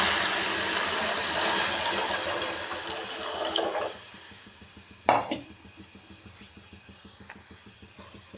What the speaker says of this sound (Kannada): ಇವಾಗ ಇದಕ್ಕೆ ನಾನು ನೀರು ಹಾಕೋತಾ ಇದ್ದೀನಿ.